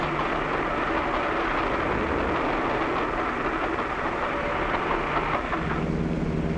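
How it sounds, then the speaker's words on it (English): A train rumbles past on a railroad above a highway underpass in 1946, a steady heavy roar with clattering wheels that fills the whole clip without letup. "A train is coming."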